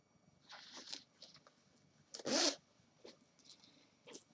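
Zipper on a cow-pattern fabric bag with a lining, heard close as several short scratchy zips, the loudest near the middle, separated by quieter rustles and handling.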